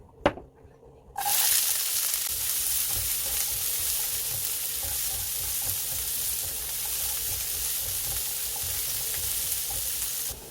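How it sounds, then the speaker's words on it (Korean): Garlic hitting olive oil in a pan, a short knock and quiet start, then a loud, steady hissing sizzle that runs on evenly up close, with no one talking. "팬에 올리브 오일 두르고요. 마늘을 먼저 볶아낼게요."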